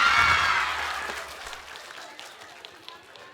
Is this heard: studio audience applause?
yes